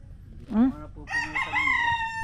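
A rooster crows loudly nearby, preceded by a short clucking call, with faint farmyard noise beneath.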